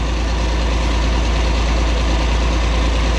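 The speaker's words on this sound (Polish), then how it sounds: "Stary silnik." A roughly 40-year-old John Deere tractor's diesel engine idles with a steady, low, throbbing rumble, loud and close, unchanging for the whole stretch.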